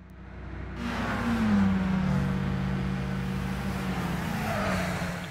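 A car engine drones steadily with a rising and settling tone and faint road rush, heard during a Gran Turismo 6 replay in the video game.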